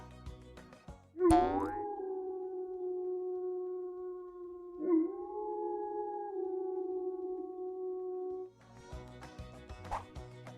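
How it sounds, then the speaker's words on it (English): A wolf howls in long sustained tones, one drawn-out call followed by a second that rises again, loud and alone against a quiet background. "we'll listen to a wolf howl."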